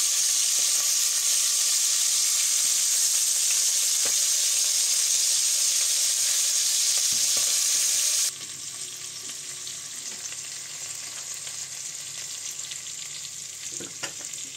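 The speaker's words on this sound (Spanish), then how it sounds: "mientras se nos sofríe el conejo" Pieces of rabbit sizzle and crackle in a frying pan with a loud, steady hiss that drops to a softer, continuous sizzle partway through, with occasional faint clinks.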